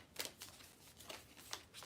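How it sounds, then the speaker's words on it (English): Tarot cards shuffled by hand, soft papery riffles and slides recurring at uneven intervals, close up and faint, with no talk over them. "I'm going to keep shuffling until cards start flying out"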